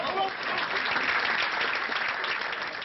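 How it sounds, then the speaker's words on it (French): Applause for François Hollande at the Socialist Party headquarters in Paris, a continuous crowd clapping with voices mixed in. "les applaudissements forcés pour François Hollande"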